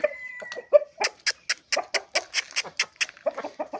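A Vietnamese Kunda rooster clucks in a quick, even run of about a dozen close, sharp calls, with a few softer clucks before and after.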